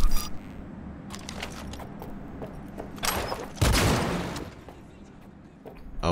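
A powerful four-round gun in Cyberpunk 2077 fires one heavy, booming shot, preceded by a shorter crack. Both stand out loudly over a low background hum, with faint game clicks around them.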